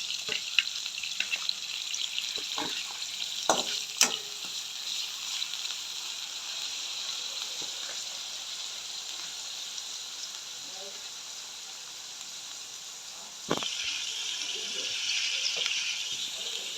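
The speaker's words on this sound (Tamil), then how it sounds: "நாங்கள் வந்து இப்போ வெங்காயம் பச்சை மிளகாய் உள்ளியை போட்டு வதக்கும்." Onions, green chillies and garlic frying in oil, sizzling steadily in a pan with scattered pops and crackles, and a louder surge of hissing comes in near the end.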